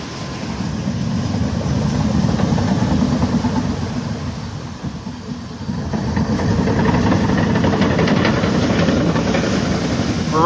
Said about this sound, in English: Got the little machine over there doing the seawalls. filling in around the seawalls.